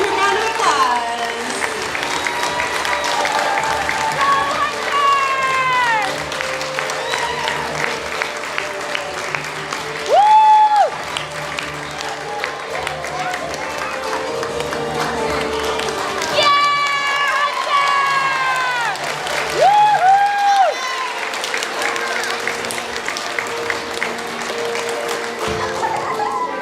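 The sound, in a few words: school assembly audience applause and cheering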